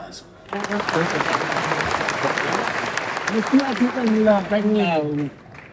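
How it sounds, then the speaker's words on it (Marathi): Loud audience applause erupts at a poet's public speech event, a dense wash of clapping that swells after half a second and holds for several seconds, with a voice rising over it toward the end. "जोरात टाळ्या."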